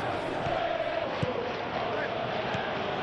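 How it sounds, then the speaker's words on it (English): A Champions League stadium crowd at Chelsea versus Barcelona roars steadily from a distance, a dense wash of massed voices urging the team on with no single voice standing out. "Now the crowd are demanding that they just finish this off."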